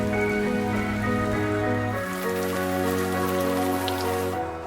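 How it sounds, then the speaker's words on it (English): Hail patters steadily onto hikers and their gear on a mountain trail, a dense close hiss with a low droning tone underneath, and no talking. "and then bam, hail. and it started to hail on us"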